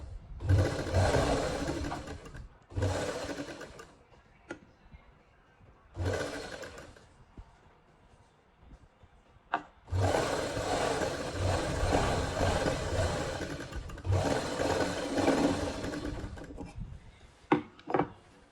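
A sewing machine runs in several bursts of steady mechanical whirring while stitching a double seam along the side of a kameez, stopping and starting with brief quiet gaps between runs.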